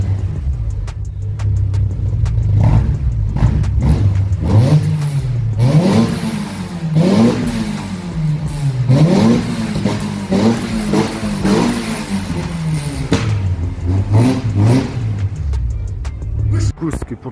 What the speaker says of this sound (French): je vous mets la vidéo de l'accélération après, c'est vraiment très violent